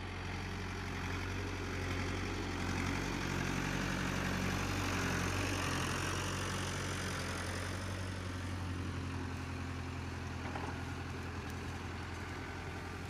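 A tractor engine idles and runs steadily, a continuous low mechanical rumble with vibration holding at an even level throughout, with no talk over it.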